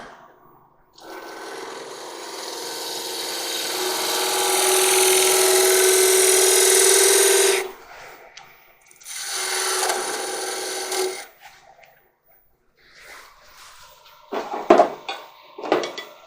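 A lathe turns a wooden long-stem goblet while a tool shapes a small half bead on the spindle end, giving a long rasping cut, a second shorter cut, then scattered scraping touches with pauses between.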